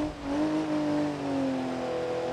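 A BMW E36 engine in BeamNG.drive strains uphill through mud, a steady droning rev that holds and slowly sags in pitch, with no voices.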